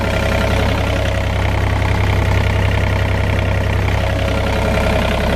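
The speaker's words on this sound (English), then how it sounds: "Nice little 3-cylinder diesel." A 2020 John Deere 30G compact excavator's pre-emission 3-cylinder diesel engine idles steadily nearby, with a constant low, throbbing rumble and even mechanical chatter, no voices over it.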